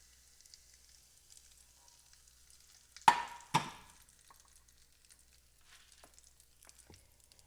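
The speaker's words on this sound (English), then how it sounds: "you're also going to put this oil over the flour" Hot oil with pepper hits flour for scallion pancakes in two quick, loud sizzling bursts that fade fast, followed by faint crackles in an otherwise quiet kitchen.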